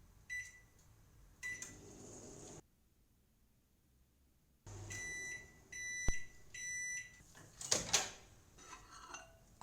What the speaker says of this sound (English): Put in microwave for about 4 minutes.